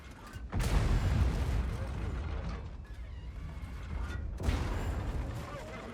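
Tank cannon shots in a World of Tanks-style battle with a Vz. 58 Medvěd, two heavy booms roughly four seconds apart, each followed by a long rumbling tail over constant engine and battle noise; a voice talks over it.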